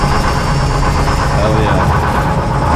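A 1959 GM 4104 bus's diesel engine has just fired up and runs loud and close, a rough, steady low rumble and clatter with constant vibration, a voice speaking over it.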